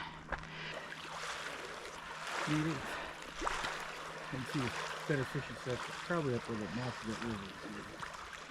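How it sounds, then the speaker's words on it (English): Soft, steady rushing water flows in the background at Lake Josephine, Glacier National Park, while people talk quietly over it. "You can hear the water."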